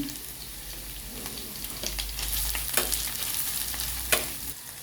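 Ginger paste fries in an onion, garlic and tomato masala in a pan, giving a steady soft sizzle with occasional scraping stirs and a couple of sharper clinks.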